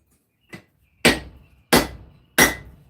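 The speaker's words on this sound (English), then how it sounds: "Sadly, I don't actually have a 5-pound hammer. So we're kind of stuck with the 4-pound for now." A 4-pound hammer forges hot steel for a knife with four sharp, ringing strikes: one lighter tap, then three heavy blows in a steady rhythm, each decaying quickly. The strikes are close and loud, with no talk.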